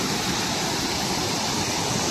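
Water pours continuously over a small village dam, a loud steady broadband rush with no breaks or voices.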